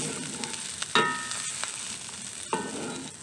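Shallots and mushrooms hit hot sunflower oil in a pan and fry with a steady, close sizzle, with a few sharper spits and stirring scrapes along the way and no voices.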